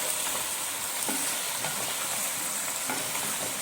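Onions frying and caramelizing in a pan, a steady, close crackling sizzle with occasional stirring scrapes and no voices over it.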